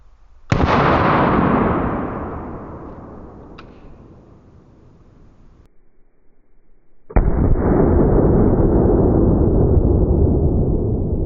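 A 5.56 M855A1 rifle round fired into ballistics gel: a sharp, loud crack with a long fading tail, then a second loud, sustained burst several seconds later. No voices.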